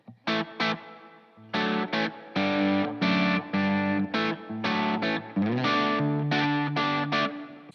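Electric guitar playing a series of distorted chords and short stabs through plate reverb, each ringing out with a smooth reverb tail; no talking.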